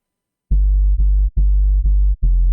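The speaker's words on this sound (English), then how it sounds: "There's nothing special happening on the sub bass besides some minor processing." Sub bass synth with minor processing, five deep, clean, sustained low notes pulsing in a rhythmic pattern with short gaps, loud and alone.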